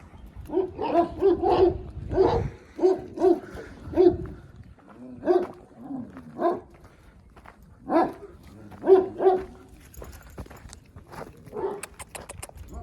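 A dog barks repeatedly at close range in short uneven bursts, with brief pauses between barks.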